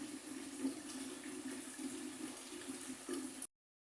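Water poured from a jug into a cooking pot while making falsa (phalsa berry) sharbat, a steady continuous splashing pour that runs for about three and a half seconds before stopping abruptly.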